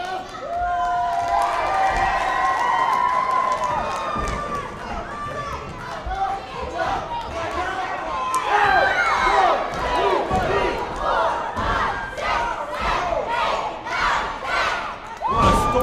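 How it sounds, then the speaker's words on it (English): A wrestling crowd at an IWC independent show roars and cheers loudly, with shouts and whoops rising over a dense, sustained din that swells and pulses with excited yells. "And this crowd explodes with approval."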